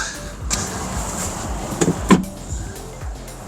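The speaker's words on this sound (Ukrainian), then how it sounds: "Так, далі ми тут маємо електровисувний фаркоп." An electrically retractable tow hitch extends on a Volkswagen Touran 2.0 Comfortline+, a faint motor whir followed by a couple of mechanical clicks and a clunk as it locks, close by.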